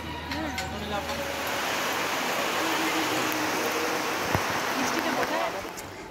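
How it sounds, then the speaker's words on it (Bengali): Heavy rain pouring down at a fair, a dense steady roar of downpour close by, with faint background voices and a brief tonal sound near the start. "হঠাৎই বেশ জোরে বৃষ্টি শুরু হয়ে গেল"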